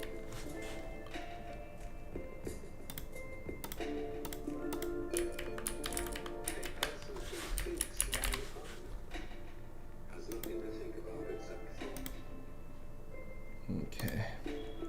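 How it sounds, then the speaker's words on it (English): Loud computer keyboard typing, a dense stream of rapid clicky keystrokes with uneven bursts and pauses, captured close to the microphone during a live futures trading session, with a voice speaking faintly at points. "I'm using my other keyboard and it's kind of loud"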